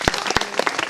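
An audience claps for a young girl at a gathering in the Lawagoghari forest range of South Chhindwara: a dense burst of hand claps with a few sharper individual claps standing out, fairly close and steady throughout.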